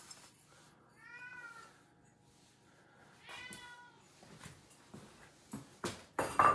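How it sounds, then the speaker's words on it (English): A male house cat meows indoors in a pottery studio, two clear drawn-out meows at moderate distance followed by clattering and handling noises as ceramic pasta bowls are unpacked. "My cat wants to go upstairs, he's meowing."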